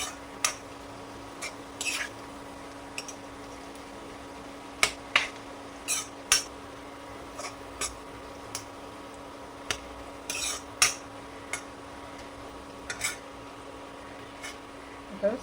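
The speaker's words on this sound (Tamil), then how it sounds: "இந்த புளியும் இதிலே போட்டு வறுத்துக்கலாம்." Tamarind is stirred as it dry-roasts in a pan. A spoon makes sparse, irregular scrapes and taps over a quiet steady hum, with about fifteen distinct clicks spread over the clip.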